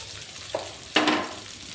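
Quiet sizzle of drumstick flowers frying in a pan, with two brief scraping stirs, the second louder.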